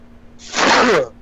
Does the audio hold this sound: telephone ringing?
no